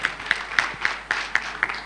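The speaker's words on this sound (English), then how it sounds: "Another round of applause for Caroline" Audience applause at a national NCD health conference, a short burst of about seven evenly spaced, crisp hand claps landing in a steady rhythm, moderately loud and close, with no talk over it.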